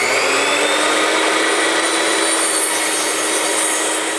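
A wooden block is cut to 4 inches against a jig, making a loud, continuous, high-pitched power-saw whine with dense rasping noise that holds steady throughout and fades slightly at the end.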